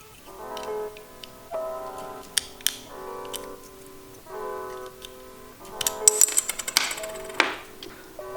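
Plastic retaining tabs of a BMW E90/E60 start button being pried from the inside and unclipping, with several sharp clicks and snaps close by, clustered near the end over faint background handling noise.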